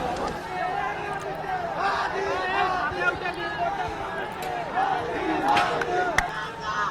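An angry crowd protests in the streets of Bangladesh, a dense roar of many shouting voices and chants that carries on steadily with occasional sharp cries rising above the babble.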